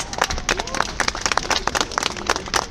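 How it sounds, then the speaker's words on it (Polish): Audience applause at the 46th Polish Feature Film Festival in Gdynia, a dense patter of clapping hands with scattered cheers and crowd noise, steady and fairly close for a few seconds. "Wielkie brawa, proszę Państwa."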